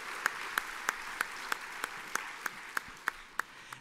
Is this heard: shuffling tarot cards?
no